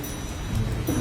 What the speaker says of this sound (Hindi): तभी जोरों की बारिश शुरू होती है